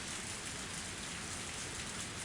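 Steady rain pours down without a break, a dense even hiss that fills the space while people run through it over gravel, with no voices or other sounds breaking in.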